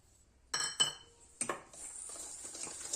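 Ghee is whisked with jaggery powder in a bowl: a few sharp metallic clinks of the utensil against the bowl, then lighter continuous scraping and tapping, close and quiet.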